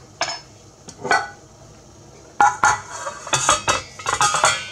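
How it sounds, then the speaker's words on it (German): A metal lid set onto a pot of wool dye in a home kitchen gives several clattering clinks and scrapes, close and moderately loud, with a louder burst of rattling knocks toward the end. "Und dann mache ich den Deckel drauf"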